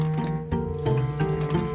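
Tap water runs into a sailboat's sink, a close, steady splashing stream with a faint tonal hum beneath, brief and without speech.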